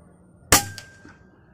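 A single sharp air rifle shot firing an A&N slug pellet at an outdoor shooting range, a crisp close crack with a short ringing tail, otherwise quiet.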